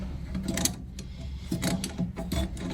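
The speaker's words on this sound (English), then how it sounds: "you definitely got to use a pair of channel locks to tighten this up here" Channel lock pliers tighten a toilet fill valve nut, producing faint close clicking and scraping ratchet-like sounds in short irregular bursts.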